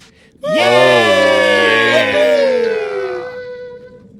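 Success sound effect in a game: a crowd of voices bursts into a loud cheer after a brief quiet moment, sustaining for about three seconds before fading out.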